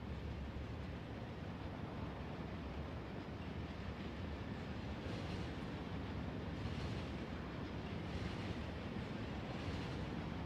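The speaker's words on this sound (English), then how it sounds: "I like my wood-powered train." Wood-fueled train running in the Factorio Space Age video game, a steady low rumble and rolling rail noise that holds faint and continuous throughout, with no talking.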